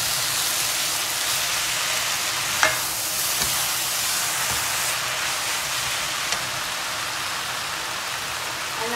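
Vegetable chow mein noodles with scallion and purple cabbage are stir-fried in a pan, giving a continuous loud sizzle with occasional scrapes and clanks of the utensil.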